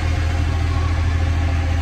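A tractor rolls down a road in the Philippines, its engine a steady, loud low rumble that stays even from start to finish with no voices over it.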